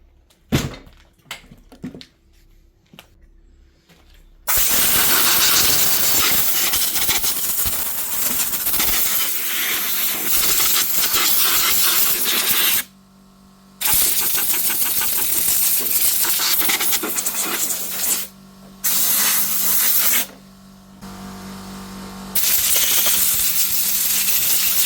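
Compressed air blasts dust off a Hiretech HT8-1 floor drum sander, a loud close hiss in long bursts with short pauses between them, after a few faint knocks at the start; no talking.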